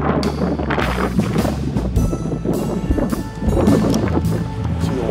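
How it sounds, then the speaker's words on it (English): Strong wind buffeting the microphone down at harbor docks on a blustery day, a loud continuous roar with low rumbling gusts and no talking. "Pretty windy today, otherwise I'd put the drone up,"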